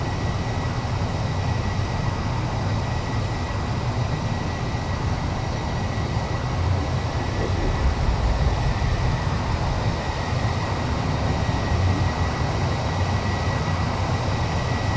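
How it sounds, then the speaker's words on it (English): Ion thrusters fire on a small ship in the space game Space Engineers, a steady, even drone with a faint high whine, unbroken and moderately loud throughout. "let's put these two little ion thrusters to work"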